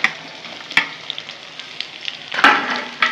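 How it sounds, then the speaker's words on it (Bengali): Onion sizzles loudly in a pan for a kochur loti dish, a close, bright crackle with two distinct scraping stir strokes. "পেঁয়াজটা একটু ভেজে ভেজে নেব।"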